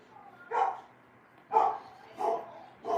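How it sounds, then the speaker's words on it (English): Pet dogs indoors bark in four sharp, separate outbursts at moderate distance, spaced about a second apart, with quiet room tone between them. "My dogs are going wild."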